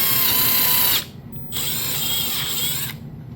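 An impact driver spins a 3/8 step bit into wood, a loud close whirring grind in two bursts separated by a short pause, with a brief ratcheting tail.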